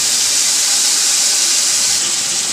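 Meat frying in a pot for yakhni pulao gives a steady, loud sizzling hiss that stays even throughout with no talking.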